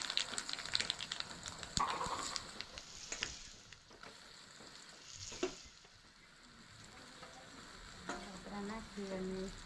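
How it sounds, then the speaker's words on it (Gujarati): Sesame seeds sizzle and fry in hot ghee in a village kitchen while patra is being cooked. The steady crackle has occasional clinks and stirring sounds, and a voice is heard briefly near the end. "આ તલ છે થોડા નાખશું આપણે તલ"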